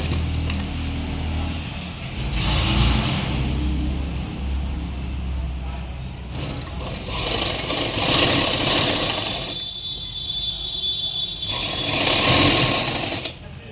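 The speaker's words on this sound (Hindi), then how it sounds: "इस पर सिलाई लगाएंगे" A sewing machine stitches a sleeve cuff in repeated bursts of rapid clattering, alternating with pauses in which someone talks over the fabric.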